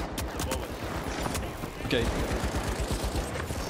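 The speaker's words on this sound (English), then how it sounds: "He's above us shooting." Rapid video game gunfire rattles in sustained bursts from a shooter set in a competitive tournament match, with a player briefly speaking over the shots.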